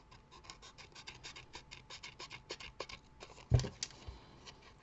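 Scissors or a blade cutting card paper flush against a card base, a run of short crisp rasping snips in quick rhythm, close and fairly quiet, ending in one sharper louder snap.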